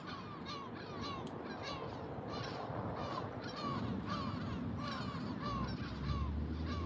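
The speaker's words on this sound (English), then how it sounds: "You got even the seagulls taking an interest here." Gulls call again and again close by outdoors, a steady overlapping chorus of harsh cries over a constant rumbling background, with no voices.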